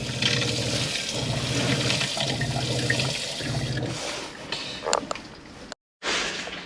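Hot water runs from a caravan shower hose and mixer taps into a shower tray, a splashing gush with pulsing pump thumps underneath, then a brief cut-out before the flow resumes.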